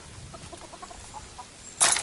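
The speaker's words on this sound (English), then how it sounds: "You gonna scare the rooster now." A rooster clucks in a quick series of short soft calls close by, followed by a sudden loud burst of noise at the end.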